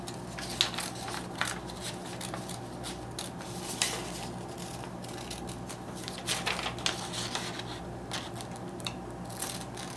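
Scissors snip the center out of a stamped paper sheet to make a stencil mask, giving faint, irregular crisp cuts and rustles over a quiet room, with no talking.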